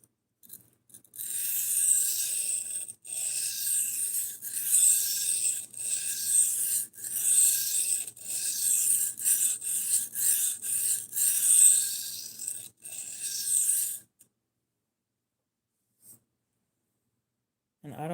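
A knife blade is drawn repeatedly across a sharpening surface, giving close, bright rasping strokes in a steady rhythm with brief pauses, then stopping near the end.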